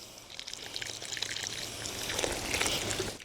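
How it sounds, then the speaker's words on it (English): Water pours and trickles from a 7.7 liter watering can onto tomato plants, a close splashing stream that grows fuller and louder as the pour continues, with no talking. "So now I'm going to pour a little over each plant."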